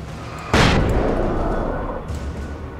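A flashbang goes off in the Alan Wake video game, one loud sudden blast that rings out and fades slowly through steady ambient game noise.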